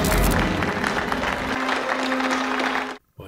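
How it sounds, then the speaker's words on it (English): Brief applause from a crowd in a ship horror movie scene rings out for about three seconds, fairly close and dense, then cuts off abruptly. "Why are they clapping him?"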